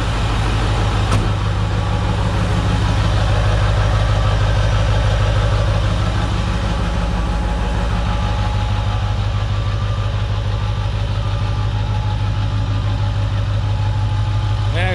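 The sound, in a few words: truck engine idling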